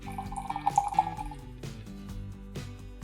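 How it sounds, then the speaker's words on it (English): Water is poured into the brewing chamber of a manual espresso maker: a light trickling splash with a few bright drip-like plinks early on, then quieter intermittent liquid sounds. "by putting in some water"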